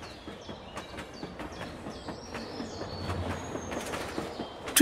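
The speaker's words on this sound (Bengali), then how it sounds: "ট্রেনটা জোরে একটা হর্ন দিয়ে দ্রুত গতিতে চলতে শুরু করল" A train pulls away with a loud horn, rolling clatter and rhythmic knocks building over a low rumble, with faint birdsong on top and a sharp burst at the very end.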